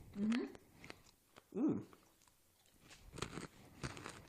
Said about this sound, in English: And they are crunchy and really good for you.